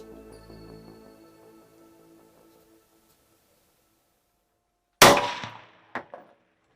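A rifle shot aimed at a javelina on a South Texas hunt: one loud, sharp crack after near silence, followed about a second later by a fainter echoing report.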